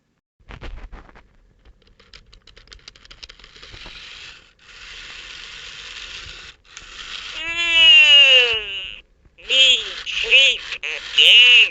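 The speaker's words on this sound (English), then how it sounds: "I have a flathead screwdriver and I'm gonna try spinning the gears" Gears inside a 1998–1999 Furby toy being spun with a flathead screwdriver give close ratcheting, whirring clicks, with squeaky rising and falling mechanical chirps in quick bursts.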